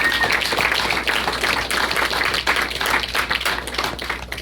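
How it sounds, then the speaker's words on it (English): Audience applause at a live punk show in a Kansas City club, a dense sustained wash of clapping and cheering that stays loud and steady throughout with no lulls. "give him a round of applause for that"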